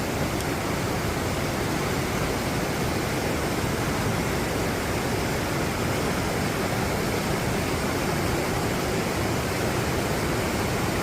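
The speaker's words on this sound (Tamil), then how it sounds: "இங்கால ஒரு சின்ன ஓடை தான்" A small stream running inside a cave in Switzerland gives a continuous even hiss of flowing water, moderately loud and unbroken, with no voices or other sounds.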